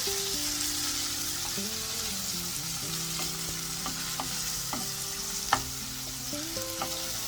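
Minced mutton keema frying with salt, chili, turmeric and garam masala, a steady close sizzle broken by occasional stirring scrapes and a sharp clink of the spoon against the pan.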